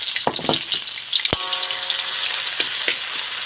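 Fish drops into hot cooking oil for a spicy coconut-milk fish dish, and a loud close sizzle rises and holds steady, broken by a few sharp pops and clinks from the pan.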